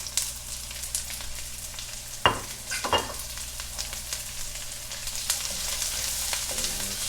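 Carrots and onions drop into hot oil in a pan and start sizzling, with two sharp hits as they land and a steady crackling fry underneath, close and moderately loud, no speech.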